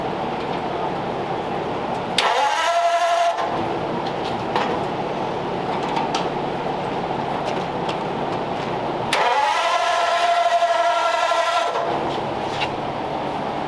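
A 1934 car engine is cranked by its starter in two separate attempts of one to three seconds each, a loud rapid churning that does not catch, over a steady background noise.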